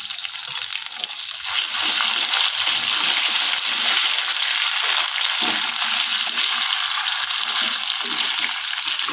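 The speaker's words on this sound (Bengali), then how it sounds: "তেলের মধ্যে দিয়ে একটু নাড়াচাড়া করে নিচ্ছি দিয়ে দিচ্ছি হাফ চামচ আদা রসুন" Ginger garlic paste fries in hot oil, sizzling loudly and steadily while a spoon stirs through it with scraping, clattering sounds, close up and without a break.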